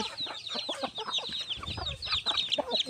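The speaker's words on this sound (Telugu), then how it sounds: "చూడండి, ఇక్కడ నుంచి అక్కడి వరకు కోళ్ళు అనమాట చక్కగా తింటున్నాయి" Several chickens cluck busily and continuously while pecking at feed, a close, lively chatter of overlapping clucks with no other sounds.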